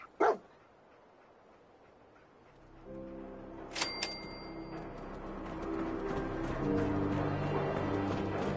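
A dog barking in a video game, one sharp bark at the start followed by two quick barks midway, heard over a steady hum and layered game music.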